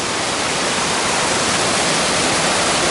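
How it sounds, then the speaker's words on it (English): Small secondary waterfall near Ramsey Cascades pours in a steady, dense, loud rush of falling water, unbroken and close, with no voices over it. "there's a little secondary waterfall right there."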